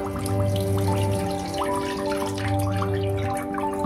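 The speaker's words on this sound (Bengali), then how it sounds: "নেওয়ার পর ভালো করে ধুয়ে নেব সব পাতাগুলো" Fresh neem leaves are rinsed under running water, with a steady tap stream splashing into a sink alongside a constant low hum and soft drips.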